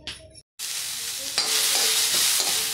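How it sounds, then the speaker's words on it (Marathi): Poppy seeds, coriander, garlic, ginger, cinnamon, cloves, cardamom and pepper dry-roast in a kadhai, giving a continuous bright crackling hiss with intermittent stirring scrapes after a brief pause. "आता मी हे सगळं या कढईत गुलाबी रंगाने भाजून घेणार आहे"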